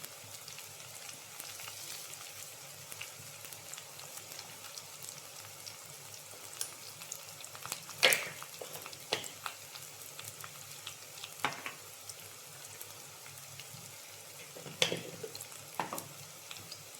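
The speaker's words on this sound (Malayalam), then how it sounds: "ചെറിയ ഉള്ളി ഒന്ന് മൂത്ത് വന്നു കഴിഞ്ഞാൽ നമുക്കതിലേക്ക് പൊടികൾ ചേർക്കാം" Small onions fry quietly in a pan as turmeric powder goes in, a faint steady sizzle with occasional sharp spoon clicks and scrapes, no voices present.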